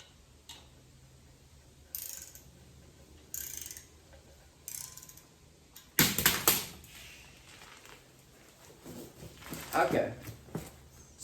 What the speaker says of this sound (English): Let me start torquing these down.